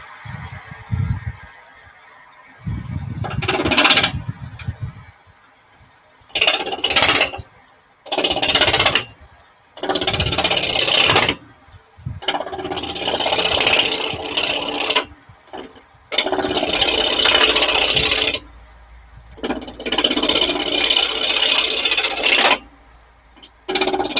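A roughing gouge cuts a wooden bowl on a lathe, producing loud, harsh scraping bursts that start and stop repeatedly, with short quiet gaps between cuts.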